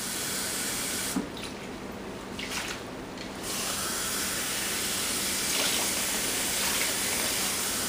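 Water pours steadily into a pot of fresh mint, a continuous close splashing gush with a short dip in the flow early on before it resumes at full strength.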